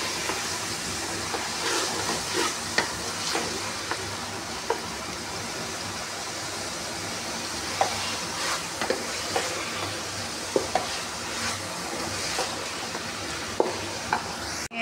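Masala with ghee being stirred and sautéed in a pan for chicken aloo qeema, giving a steady sizzle with scraping spoon strokes and small clinks spread through, close and alone with no talk.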